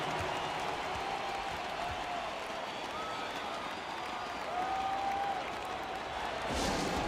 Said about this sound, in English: Show some love and clap your hands.